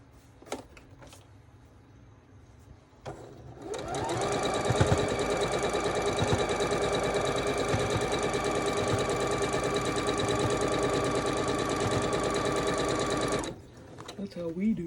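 A sewing machine stitches quilt sampler pieces in one continuous run of about ten seconds, a steady loud whirring hum at constant speed. Brief handling clicks and soft talk come before it, and a few light knocks follow.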